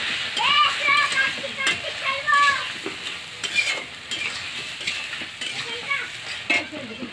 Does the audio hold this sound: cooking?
yes